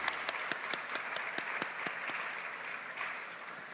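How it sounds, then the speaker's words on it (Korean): A church congregation applauds steadily at a Sunday youth worship service, a dense wash of many hands clapping with a few sharper individual claps standing out, even in level throughout. "우리 하나님께 영광의 박수 올려드리도록 하겠습니다"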